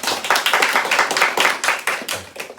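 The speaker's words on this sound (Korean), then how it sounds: "우리 전도사님에게 다시 한번 박수 부탁드립니다." A worship congregation claps for a preacher at the close of a Thursday church service, a dense, steady burst of many hands at close range with slight rhythmic swells and no talking.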